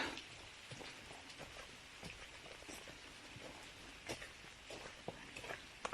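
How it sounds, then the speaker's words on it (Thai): Steady rain falls through a misty forest at Mae On in Chiang Mai, a soft continuous patter with scattered louder drops, fairly faint and with no voices. "เราจะได้ยินแค่เสียงฝนเท่านั้น"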